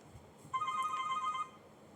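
A phone's electronic ringtone trills in a short burst of bright, steady tones for about a second, loud over a quiet room during a Hindi literature class, then stops.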